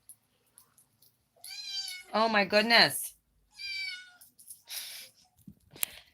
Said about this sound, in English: There's my Gemini kitty.